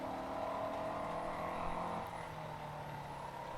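A car engine in a racing video game drones steadily with a thin, high turbo whistle riding above it, the pitch dropping slightly partway through.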